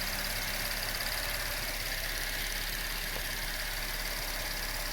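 A 2012-2016 Chevrolet Impala with the 3.6 LFX V6 idles after an upper intake manifold reinstallation, a faint, even engine hum holding steady throughout.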